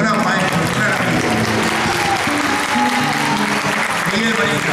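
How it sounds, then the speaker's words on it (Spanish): Sustained, loud applause from a crowd at a tango show at the Casa de la Cultura in Quilmes, dense clapping filling the room throughout with voices mixed in. "Un aplauso"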